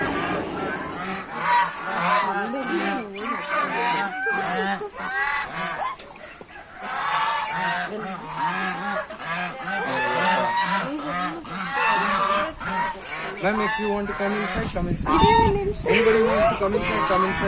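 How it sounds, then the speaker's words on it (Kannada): Loud, repeated honking calls from several waterfowl nearby, overlapping in a noisy chorus, with people talking at the same time. "ಡಕ್ಕು ಇದು ಡಕ್ದೇ ಸ್ಪೀಶೀಸ್ ಇದು"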